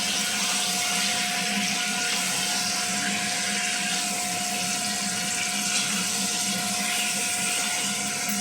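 Marinated chicken sizzles in a hot pan for a chicken and potato kosha, a steady, dense frying hiss running loud and unbroken throughout with no voices.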